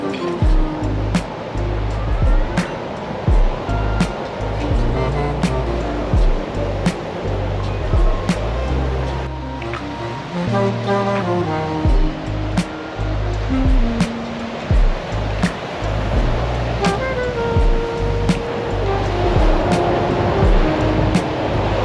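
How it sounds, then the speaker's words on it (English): Waves wash steadily onto a spacious beach at a Tawi-Tawi island resort in the Philippines, a continuous loud surf roar with rhythmic surges and no talking. "now let's head on over to the beach area"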